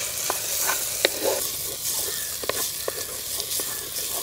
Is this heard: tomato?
yes